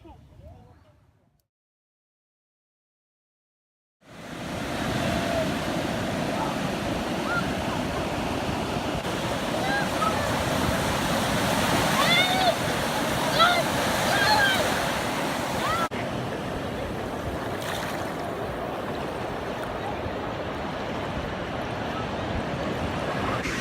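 Surf at a beach, a steady, full wash of breaking waves with wind rumbling across the microphone, loud and continuous after a few seconds of near-silence at the start; faint voices mix into the roar.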